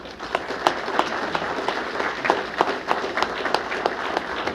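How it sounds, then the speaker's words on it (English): Audience applause at a city employee recognition awards ceremony honoring staff milestones, a steady wash of many hands clapping throughout, fairly distant and even with a few sharper claps standing out. "So let's have a round of applause for those"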